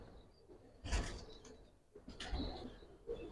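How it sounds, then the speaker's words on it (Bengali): Pigeons of a Giribaz fancy breed kept for sale coo faintly in a few soft, throaty bursts, with light rustling and mechanical clicks in a quiet room. "দেখেন মাশাআল্লাহ কবুতরগুলো"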